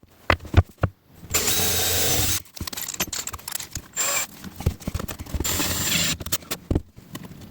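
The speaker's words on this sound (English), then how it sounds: "so I'm going to drill a hole" A handheld power drill bores a screw hole in an electrical closet shelf inside a converted bus, with a sustained whine lasting about a second, short bursts, and several clicks and handling knocks.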